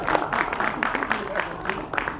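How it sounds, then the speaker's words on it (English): A TEDx audience applauds in a short, fairly quiet burst of scattered claps. "Give a round of applause to yourself."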